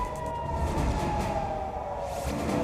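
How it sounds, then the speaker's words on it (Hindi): An air raid siren sounds during an Iran–Israel missile attack, a steady wailing tone rising and falling slightly over continuous urban background noise, moderately loud throughout with no speech. "सायरन की आवाज सुनकर भागे लोग।"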